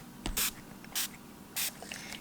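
Three quick pumps of a spray bottle misting Wabikusa Mist fertilizer onto mini Anubias and Bucephalandra plants, each a short hissy burst about half a second apart, close and fairly quiet with faint handling noise.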